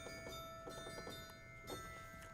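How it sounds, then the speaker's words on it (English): Several bright metallic chimes from the Kotzschmar pipe organ ring out and sustain, struck at irregular intervals and overlapping as they fade, fairly soft and alone. "And I have chimes."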